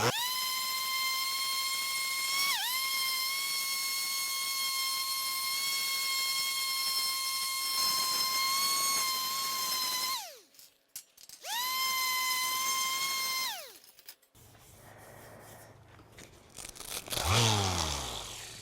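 A power polisher buffs an aluminum car grille at home, giving a loud, steady motor whine that dips briefly, cuts out for a moment, resumes, then spins down and stops near the end.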